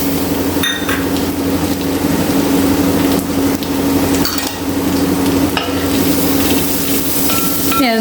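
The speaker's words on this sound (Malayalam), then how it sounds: "ഇനി അത് നന്നായിട്ട് എല്ലാം കൂടി ഒന്നും കൂടി വഴറ്റിയെടുക്കാം." Crushed garlic, ginger and green chilies sauté in hot oil in a pan for a Kerala-style country chicken curry, a dense, loud continuous sizzle with a low steady hum and occasional spatula scrapes, no talking.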